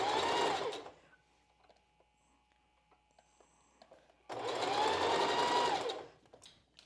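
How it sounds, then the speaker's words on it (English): A sewing machine basting along the channeling of a strapless bra runs in two loud, steady bursts, each about a second or more long, with a quiet pause between them. "You can increase your stitch length a little bit, and we'll just start sewing at this first piece of channeling."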